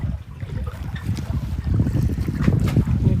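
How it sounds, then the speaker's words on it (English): A sailboat running under sail with its engines off, off the Florida coast between West Palm Beach and Stuart, gives a steady low rush of wind and water that builds gradually, with no voices. "We just put the sails up and turned the engines off."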